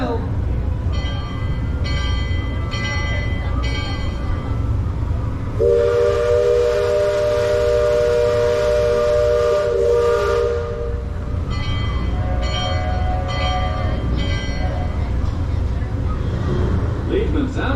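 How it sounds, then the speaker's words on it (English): A riverboat sounds a loud sustained steam whistle for several seconds amid the steady rumble and chugging of its engines, with a ringing departure bell and voices in the background. "Sound the last bell"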